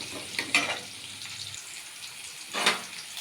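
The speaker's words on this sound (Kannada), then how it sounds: "ಇದು ಕ್ಯಾಪ್ಸಿಕಮ್ ಚೆನ್ನಾಗಿ ಫ್ರೈ ಆಗಿ" Capsicum frying in a pan with a pinch of asafoetida for bisibele bhath, a soft steady sizzle broken by two brief stirring scrapes, close and without speech.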